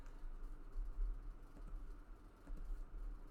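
A computer keyboard is tapped out in short bursts as an ipconfig command is entered at a command prompt, with quiet close clicks over a low background hum.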